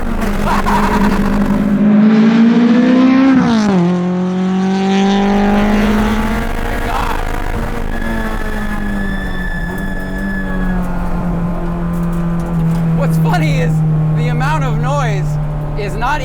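Honda S2000 time attack race car at speed, its engine holding a strong droning tone with a sharp rise and dip near the start, then a long sustained pitch. Voices react faintly over the engine noise.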